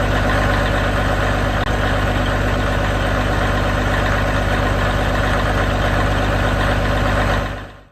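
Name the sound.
Caterpillar 1693 truck engine idling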